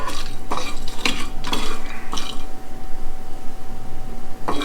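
Spices roasting in a pan for Vietnamese pho are stirred in repeated scraping strokes of a utensil against the metal, loud and close, over a light sizzle, with no voices.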